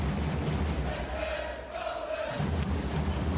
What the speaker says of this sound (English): The fans cheering loudly